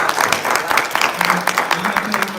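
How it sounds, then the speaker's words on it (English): Audience applause for a presenter at a talk, a dense patter of clapping hands that fills the short stretch at steady loudness, with some murmured voices mixed in. "Another round of applause for the Doctor"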